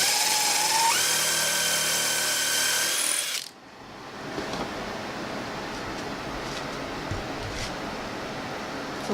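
A power drill with a countersink bit working into a wall shelving unit, a loud, high whirring spin that runs for about three seconds and then cuts off abruptly, leaving quiet room background.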